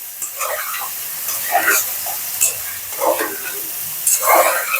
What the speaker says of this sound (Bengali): খুব সুন্দর করে মশলাটা কষিয়ে নিচ্ছি আর এই যে আলু দিয়ে দিয়ে এখন কষিয়ে নেব